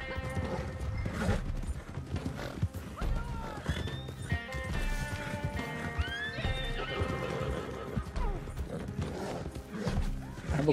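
Horse hooves clip-clop at a gallop while a horse neighs and whinnies over busy game music and effects from Red Dead Redemption 2 Online, with a voice talking occasionally.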